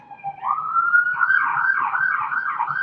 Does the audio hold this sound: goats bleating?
no